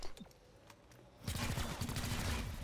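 Shotgun fire in the video game XCOM Chimera Squad: after a quiet lead-in, a loud, rapid run of blasts begins and carries on in a dense, rhythmic stream to the end.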